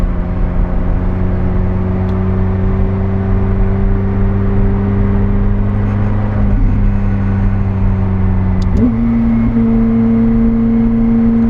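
A McLaren 765LT's engine drones loudly from inside the cabin while driving at around 40 mph, a steady low rumble and whine that holds through most of the stretch before shifting pitch near the end.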